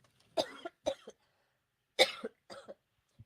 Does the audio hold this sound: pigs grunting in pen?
no